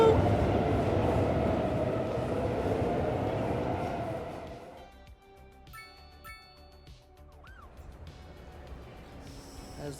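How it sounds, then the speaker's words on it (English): A subway train in the video game Chill Cities 2 rumbles past loudly, then fades into quieter clanking and rhythmic rail clicks with a brief high squeal. "That's literally the first train to come upon over here."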